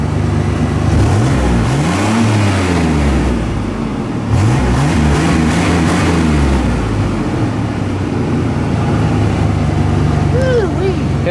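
A 1991 Chevy S10's carbureted V6 idles steadily and loud up close, with a low continuous rumble and a few rising revs, while someone talks over it.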